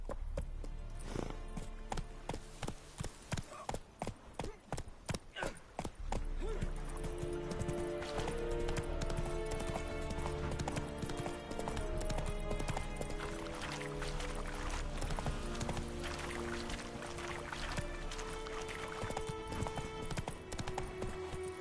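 Horse hooves clip-clop rapidly at a gallop in the Witcher 3 video game, loud and close with steady rhythmic beats, an occasional whinny, and game music or ambience underneath.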